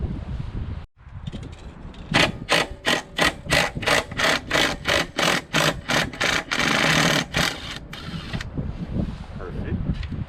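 An impact tool works on seized bolts of a Briggs & Stratton Quantum engine on a Craftsman lawnmower, hammering in a dozen quick rhythmic bursts. A steady background noise runs underneath.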